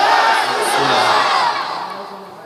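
A large religious gathering roars back in unison to a takbir call, a loud, dense wall of massed voices that holds strong and then slowly fades toward the end.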